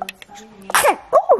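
A mother sneezes in a home family setting with a newborn, one sharp explosive burst followed by quick breathy vocal sounds, close and loud, with brief exclamations spoken around it.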